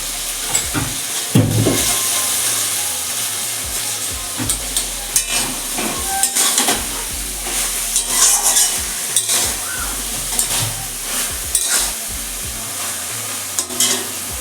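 Spinach and tangra fish curry sizzling and frying in a pan while being stirred, a steady loud hiss with repeated scraping strokes and clanks of the spatula close up.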